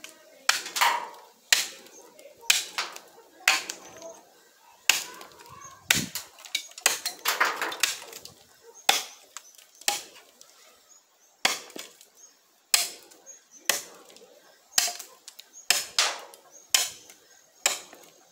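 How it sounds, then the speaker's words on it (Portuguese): A handmade sickle chops through rope and wood in a series of sharp, close, percussive strikes, spaced irregularly about a second apart, with quiet gaps between the hits. "nós vamos cortar a corda"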